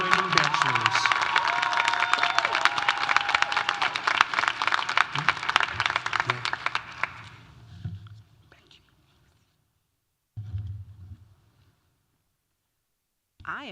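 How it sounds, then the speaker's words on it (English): Applause and cheering from a crowd for graduating bachelor's students at the 2026 Asian Student Celebration, dense clapping for about seven seconds that thins and fades, followed by quiet with brief voices. "Please join me in giving a round of applause to the Asian Student Celebration, Class of 2026, graduating bachelors."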